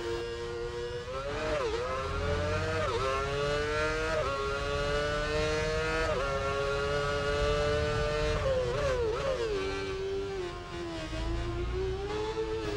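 Robert Kubica's 2008 Formula 1 car screams loudly and continuously through a lap of Shanghai, its high engine note climbing and dropping sharply with quick gear changes and braking dips, close and without any talk.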